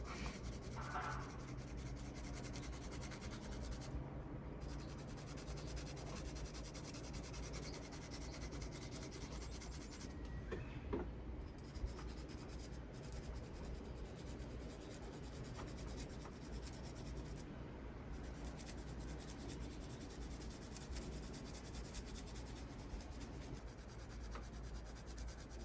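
A handmade knife blade is polished by hand in a small cabin workshop, a steady and fairly quiet rubbing and scraping that runs back and forth without pause, with no voices.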